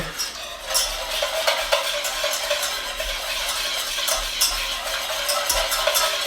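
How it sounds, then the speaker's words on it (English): Butter and brown sugar stirred together in a bowl for buttermilk cake batter, a continuous close scraping and swishing with rhythmic utensil strokes against the bowl's side, no voices. "I'm going to stir this in a little bit while the butter's still warm to help with the brown sugar"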